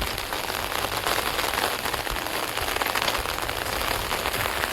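Heavy rain pours down in Mumbai as a dense, steady hiss of drops striking surfaces nearby, continuous and loud throughout with no voices.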